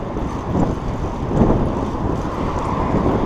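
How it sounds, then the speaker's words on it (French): Steady sea wind buffeting a GoPro Hero 3 camera microphone outdoors while cycling in Nice, a continuous low rumble with gusts swelling and easing, no voices. "Et il y a encore un peu de vent."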